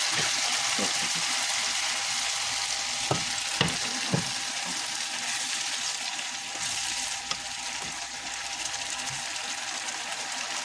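Beans frying in spices in a pan for a koi fish curry, with a continuous soft sizzle and several sharp spatula knocks and scrapes. Faint talk runs beneath.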